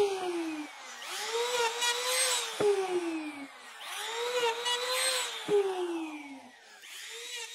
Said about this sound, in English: I just carry on cutting out notches until I reach the last one